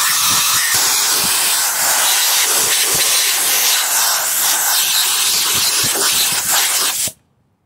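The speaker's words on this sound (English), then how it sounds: "with a little compressed air just to blow any little bits of leftover sealant or anything else that ends up in there out of the housing" Compressed air hisses steadily out of a Mercedes 4Matic transfer case housing on a 2011 GLK 350, a loud, continuous broadband blast with faint sputtering that cuts off abruptly near the end.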